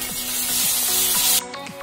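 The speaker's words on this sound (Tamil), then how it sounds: "வெங்காயம் நல்லா வதங்கிருச்சு இப்போ இஞ்சி பூண்டு விழுந்து சேர்த்துக்கலாம்" Ginger and garlic added to onions, curry leaves and mustard seeds frying in oil for an egg drop curry, giving a loud, steady sizzle with scraping stirs that drops off sharply near the end.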